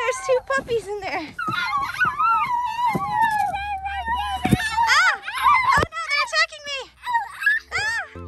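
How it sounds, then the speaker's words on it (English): Two puppies whimper and whine in a high, wavering stream of yips and moans, close and fairly loud, with short barks and rustling throughout. "There's two puppies in there."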